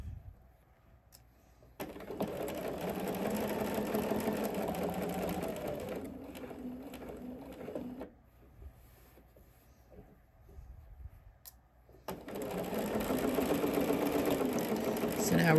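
Sewing machine stitching ponte knit pants, a steady close mechanical whir in two long runs with a quiet pause between them while a person talks softly.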